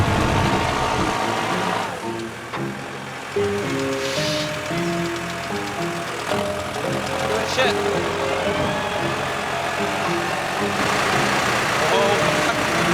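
Tractor engine labouring steadily as it hauls a boat trailer across beach sand, a continuous close rumble beneath shouting voices throughout.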